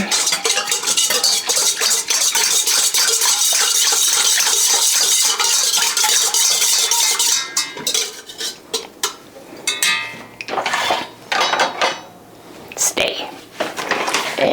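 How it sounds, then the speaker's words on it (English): Spoon stirring a keto mixture in a pot, with steady scraping and clinking against the metal that later becomes intermittent under talk. "let me stir this real quick. I don't like it clumping in the bottom"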